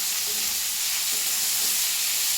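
Green chillies frying in hot oil for avarekalu dal sambar, a steady, dense sizzle that holds evenly and close throughout with no voices.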